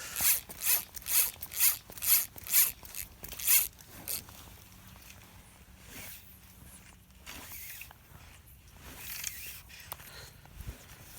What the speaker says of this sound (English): Rip some line off.